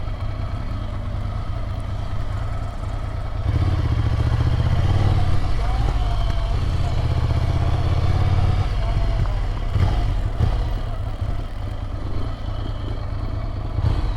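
A Ducati superbike engine idling close by, a deep steady low rumble that grows louder and rougher mid-way before settling, with someone talking over it.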